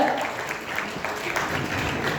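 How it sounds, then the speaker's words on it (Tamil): An audience at a film success meet for Blue Star applauds steadily as an actress is welcomed on stage, a sustained wash of many hands clapping with a faint voice underneath. "Thenmozhi Divya Duraisamy on stage please, ஒரு பலத்த கைத்தட்டலோட"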